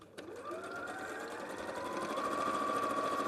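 A sewing machine runs steadily while stitching fabric panels, a close, even mechanical whirr that speeds up slightly and holds its pace for a few seconds, with no talk.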